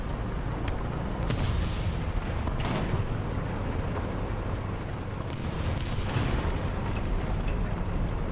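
Tank battle in War Thunder with early French and British armoured cars, muffled cannon booms and explosions thudding over a constant rumbling engine and wind bed, several distant hits spread across the stretch.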